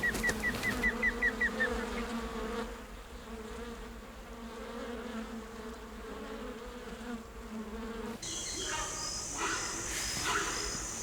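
Wasps buzzing in the Manu rainforest, a close insect drone with several brief pulsing bursts at the start, then a sustained hum over faint forest ambience, with a brighter shift near the end.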